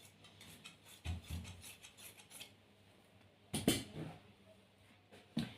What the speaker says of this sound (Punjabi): ਜਿਹੜਾ ਫੋਲਡਿੰਗ ਵਾਲਾ ਪਾਸਾ ਸੀਗਾ ਇਹਨੂੰ ਵੀ ਆਪਾਂ ਕਟਿੰਗ ਕਰ ਦਿੰਨੇ ਆ